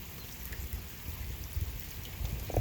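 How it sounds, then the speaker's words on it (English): Slow, steady rain falling outdoors, a soft continuous patter with faint low rumble underneath, fairly quiet and even throughout with no voices. "It's like a slow, steady rain."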